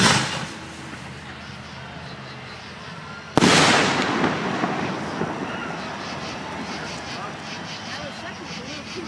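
Fireworks test shells going up at an outdoor display in Winsted, Connecticut, with one loud burst and a crackling, rumbling tail that fades, following a quieter stretch of distant ambience.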